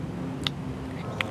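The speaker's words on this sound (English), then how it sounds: "the signal is a tongue click that might sound like this." Two faint, sharp tongue clicks used for echolocation, spaced under a second apart over a low background hum.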